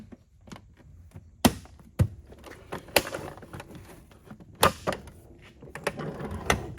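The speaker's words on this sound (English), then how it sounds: "Just throw the top cover back on." The top cover of a Simplicity Symmetry vacuum cleaner is set back in place, making a series of close plastic taps, clunks and knocks, some louder than others, spread irregularly over several seconds.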